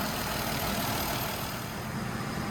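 The 3.0L engine of a 2008 Ford Fusion SE idles with a steady, even hum close by, after a transmission fluid drain and fill, with no voices over it.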